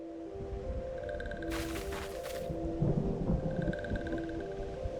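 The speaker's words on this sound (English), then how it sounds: "I am hearing the roaring thunder in the background" Rolling thunder rumbles in the background of Final Fantasy XIV gameplay, along with a sustained musical drone and a brief burst of rain-like hiss.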